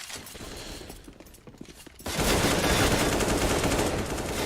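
Gunfire in a professional CS:GO match: quieter scattered shots in the distance give way to loud, sustained rapid firing that continues to the end.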